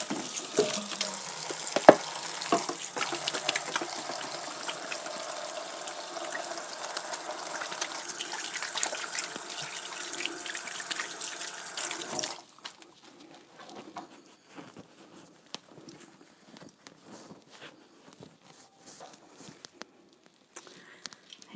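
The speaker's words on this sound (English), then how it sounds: "I'll wash my hands." A kitchen sink tap runs in a steady gush for about twelve seconds while hands are washed, then shuts off, leaving faint clinks and rustles in a quiet room.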